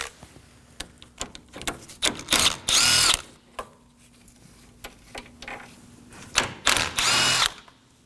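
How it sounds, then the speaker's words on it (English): A power tool whirs in two loud bursts as it removes the 10 mm condenser mounting bolts on a 2013-2019 Nissan Sentra, with scattered clicks and ratcheting between the bursts. "Now we're going to move along to our two 10 millimeter mounting bolts for the condenser."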